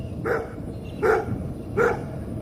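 A stray dog barks three times at steady intervals, somewhat distant and moderately loud, over constant outdoor background noise.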